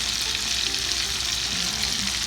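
Shrimp scampi sizzles steadily in a hot pan while being flipped, a loud, close, continuous frying hiss with light stirring clatter.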